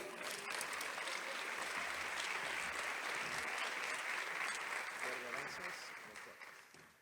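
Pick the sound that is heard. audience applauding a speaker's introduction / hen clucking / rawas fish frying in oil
audience applauding a speaker's introduction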